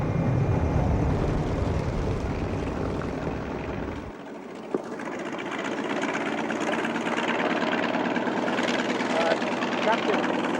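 A T-28 bomber flies a bombing mission over northern Laos. Its engine drones loudly and steadily, the pitch shifts midway as if the view changes to the cockpit, and someone talks over the noise.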